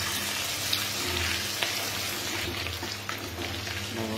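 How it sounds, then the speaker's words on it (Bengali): Chopped garlic and ginger sizzle in hot oil for fried rice, a continuous bright crackle with a few sharp ticks of stirring, close and steady, no voices. "আবারও একটু নাড়াচাড়া করে নেব।"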